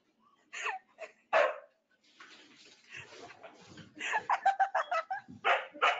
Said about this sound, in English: Look at this dog.